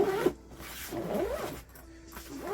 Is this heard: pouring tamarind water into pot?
no